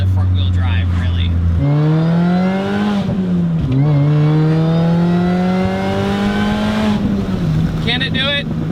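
A supercharged Mini Cooper S engine revs loudly while driving, its raspy note climbing steadily through the gears with brief dips at each shift, heard close from inside the car.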